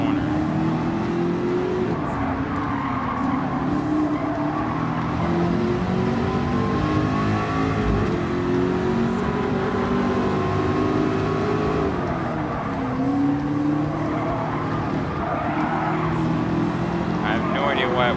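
A Ford LM Gr.3 race car in Gran Turismo 7 drones loudly through a corner, its engine note holding steady then rising and dipping as it pulls in a low gear, with a voice talking over it.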